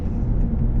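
A 2005 Lexus IS300 fitted with a 2JZ engine produces a loud, continuous low engine rumble while driving, heard close up and alone.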